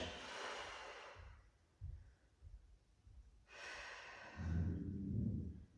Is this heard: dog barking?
no